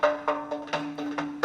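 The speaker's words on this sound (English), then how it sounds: "That's the sound of the gaval." A gaval, the Azerbaijani frame drum, is struck in a quick irregular pattern of about seven close, resonant beats with a steady low ringing tone beneath, played alone without talking.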